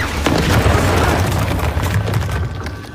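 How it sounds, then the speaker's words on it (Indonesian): A sudden explosion in a film scene about a memory-less agent, a deep rumbling boom that fills the whole stretch loudly with no voices over it. "sebuah ledakan pun terjadi"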